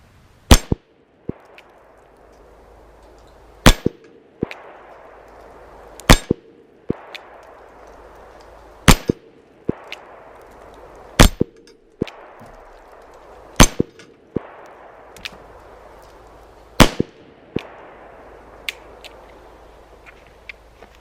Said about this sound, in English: So first one we're gonna shoot, Taurus Model 66. Let's see how we do on this steel.